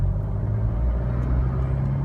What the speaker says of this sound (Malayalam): അപ്പോൾ വണ്ടിൻ്റെ സൗണ്ട് അങ്ങനെ ശ്രദ്ധിച്ചു നോക്കാം